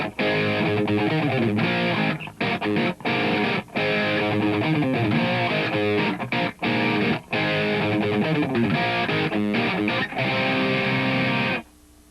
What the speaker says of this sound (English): I've turned the reverb off and turned a lot of the chorusing on to get this sound.